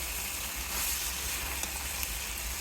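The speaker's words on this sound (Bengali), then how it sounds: "কম তেল দিয়ে মুরগির মাংসটা আজকে রান্না করছি, খুব সুন্দর করে কষিয়ে নেব।" Chicken curry with fried potatoes frying in a small amount of oil, a soft, even sizzle and crackle running steadily throughout at moderate level with no voices.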